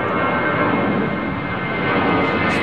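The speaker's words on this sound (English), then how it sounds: "Is this JetBlue making its way out, about to depart," A JetBlue Airbus A321 departing London Heathrow roars loud and steady, a broad continuous engine rush filling the whole moment with no voices.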